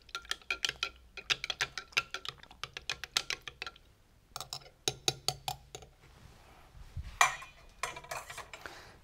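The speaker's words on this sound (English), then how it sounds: "Quick stir." A spoon stirs milk kefir in a glass jar, quick light clinks and taps in bursts with short gaps, soft and close.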